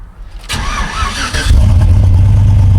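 A truck engine with a newly installed cam cranks and fires up, then settles into a loud, steady rumbling idle with a deep low throb.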